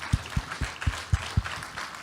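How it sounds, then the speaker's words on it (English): Applause at a university lecture event with rhythmic low thumps, about six evenly spaced beats, sounding like a few people clapping steadily over a diffuse crowd wash. "round of applause"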